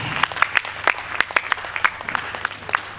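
Scattered clapping from a modest audience at an investiture ceremony, distinct individual claps rather than a dense roar, loose and uneven in rhythm, heard fairly close.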